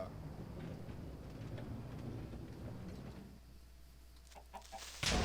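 Chicken clucks in a Minecraft-style video game near a taiga biome, a soft busy murmur of clucking under game ambience that thins out partway, with a few brief louder clicks at the end.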